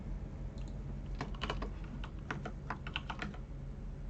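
Fingers typing on a computer keyboard during a coding session, a quiet, uneven patter of close key clicks with short pauses and a few quicker flurries.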